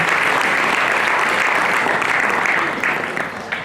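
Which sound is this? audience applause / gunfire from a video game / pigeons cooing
audience applause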